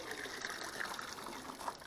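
Water gushing and trickling as a water-filled hydro dip tank is pulled up, a steady, close rushing wash with small splashes throughout.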